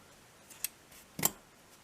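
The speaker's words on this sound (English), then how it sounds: "cut the yarn" Two quick, crisp snips of scissors cut through crochet yarn, the second sharper and louder, close up in a quiet room.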